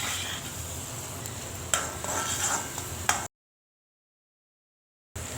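Garlic cloves frying in hot oil in a pan for a garlic pickle, a steady close sizzle with a few stirring scrapes, then a gap of silence before the sizzle returns.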